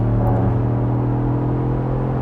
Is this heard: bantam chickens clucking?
no